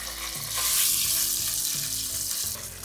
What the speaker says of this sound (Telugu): ఈ చికెన్ ముక్కల్ని మనం ఈ నూనెలో వేసేసుకుందాం.